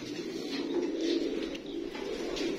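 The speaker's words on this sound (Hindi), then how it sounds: "ये जी फ्रांसी कबूतर आपको इसी छत पे अब नजर आएंगे।" Rare French pigeons on a rooftop, giving a steady low cooing close by with faint bird chirps above it and no talking.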